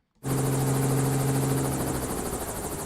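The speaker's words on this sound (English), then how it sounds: "So here's the sound effect" Helicopter sound effect kicks in abruptly after a moment of silence, a loud, close, steady rotor thump over a droning engine hum that holds to the end.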